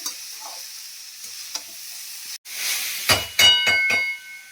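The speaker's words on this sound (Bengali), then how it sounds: "আর আমি বিটটা ভাজতে থাকি।" Beetroot frying in a pan, with a soft sizzle, then a brief gap followed by several sharp spatula scrapes and clinks against the pan, close and fairly loud.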